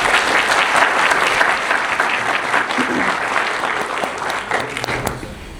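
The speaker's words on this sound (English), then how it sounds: "Let's give them a round of applause." An audience at a youth services officer graduation ceremony breaks into loud, dense applause that gradually thins out over several seconds.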